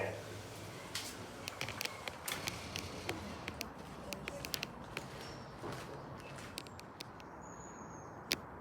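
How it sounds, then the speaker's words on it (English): Train doors opening at the new Ashley Down station in Bristol: a run of mechanical creaks and clicks with scattered footstep-like taps, set against a steady platform background with voices faintly present. "Doors opening."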